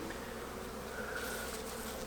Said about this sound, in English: Look at that nice cluster of bees right here.